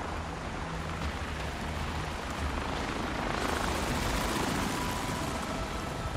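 An attack helicopter in the video game Avatar: Frontiers of Pandora roars steadily, a dense, loud rotor wash that swells slightly partway through.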